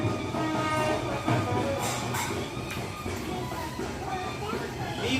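A train passing near a home, a steady rumbling roll with rhythmic clatter and a brief high horn-like tone, heard fairly close, with voices and background noise mixed in.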